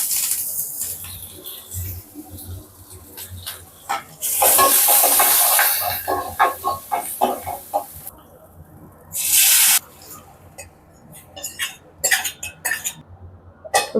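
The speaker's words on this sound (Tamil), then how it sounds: "அடுத்தது காஞ்ச மிளகா இப்போ வெங்காயமும் கருவேப்பிலையும் போட்டுக்கலாம்" Dried chillies, onions and curry leaves hit hot oil in a Tamil kitchen, bursts of loud sizzling between spoon scrapes and clinks of a pan, with quiet gaps between.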